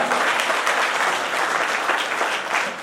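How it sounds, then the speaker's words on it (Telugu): Steady, dense applause from an audience at a Voters Day programme as senior citizens are honoured by the district collector, loud and continuous throughout with no pause. "దయచేసి అందరూ చప్పట్లు గట్టిగా"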